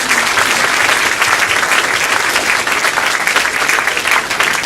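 An audience at an evening event breaks into a round of applause, a loud, dense and sustained roar of many hands clapping together, steady throughout with no one speaking over it.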